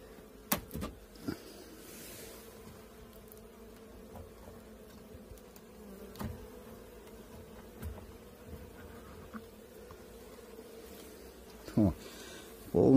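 Honey bees buzz steadily around Alpine-style beehives on a mild day during their cleansing flight. The low, continuous hum runs throughout, with occasional knocks and handling noises near the end.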